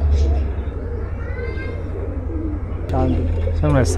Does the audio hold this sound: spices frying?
no